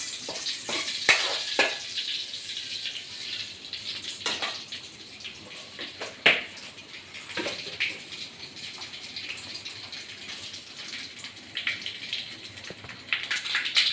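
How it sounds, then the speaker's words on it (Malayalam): Close, busy crackling of mustard seeds in hot oil, with sharp scattered pops bursting over a continuous hiss. "നമുക്ക് ഈ ഉള്ളി അങ്ങോട്ട് മാറ്റിയിട്ട്"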